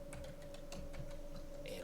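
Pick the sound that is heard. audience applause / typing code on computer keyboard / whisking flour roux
typing code on computer keyboard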